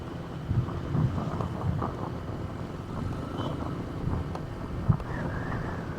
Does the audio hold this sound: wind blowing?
yes